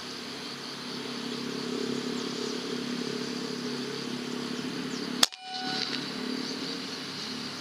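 A single sharp, loud crack from a Gladiator XL-7 air gun lands after a stretch of steady background hum, followed by a brief metallic ring and a lingering faint tone.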